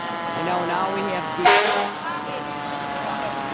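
A Belgium Cold Springs Fire Department fire truck, Truck 2, sounds its loud horn in one brief blast during a Memorial Day parade, cutting over a noisy street crowd with talking nearby.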